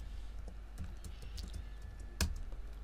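Typing on a computer keyboard while coding a show/hide password handler: scattered soft key taps throughout, with one sharper, louder keystroke near the end, no talking.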